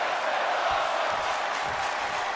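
A sold-out wrestling arena crowd at the Golden One Center in Sacramento, heard in a WWE video game, roars as a steady, dense wash of cheering with no breaks.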